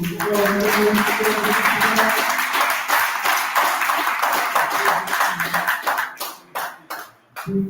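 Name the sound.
audience applause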